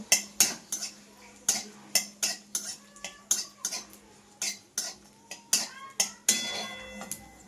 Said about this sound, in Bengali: এবার দিয়ে দেবো আমি লঙ্কাটা আমি একে ভালোভাবে ভেজে নেব